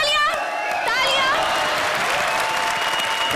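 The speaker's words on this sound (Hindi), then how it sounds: "अरे तालियां, तालियां।" Studio audience applauding on a Hindi comedy TV show, a steady dense wash of clapping that fills the whole stretch, with overlapping voices and brief cheering heard through it.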